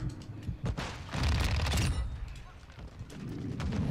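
Turret machine gun firing in Call of Duty: Modern Warfare II, a loud dense burst of gunfire with mechanical clatter, swelling in the middle and returning near the end amid game noise.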